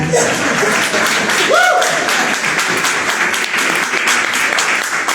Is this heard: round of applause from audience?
yes